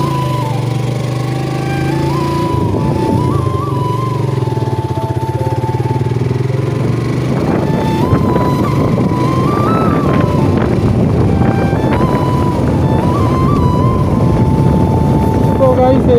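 Suzuki Gixxer motorcycle engine while riding, a continuous close drone whose pitch climbs and dips through gear changes, mixed with heavy wind rush across the whole stretch.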